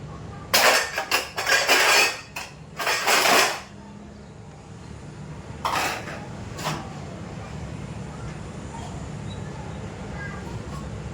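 Pulao is served from a pressure cooker onto plates: a quick run of metallic clinks and scrapes of a spoon against the pot and plates in a home kitchen, followed by a few more isolated clinks and quiet room noise.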